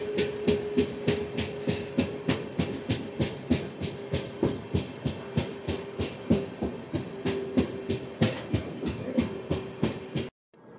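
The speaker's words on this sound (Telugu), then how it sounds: "వీల్ సౌండ్ అయితే వినండి, ఫ్లాట్ వీల్ సౌండ్" A steady, rapid rhythmic thumping rolls along without pause as the Tirupati AC Double Decker Express runs on a flat wheel, repeating beats over a constant rumble and hiss of the moving train, cutting off abruptly near the end.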